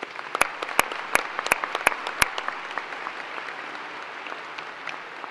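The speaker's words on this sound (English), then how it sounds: "Please join me in giving them a round of applause." Applause at a high school graduation ceremony in Colerain: a burst of sharp, close claps opening the clip, then a sustained crowd clapping that continues steadily to the end.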